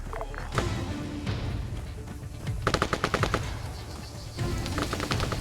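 Gunfire in the military shooter game Arma 3: rapid machine gun bursts with repeated sharp shots and fusillades, loud and close, in a dense battle ambience.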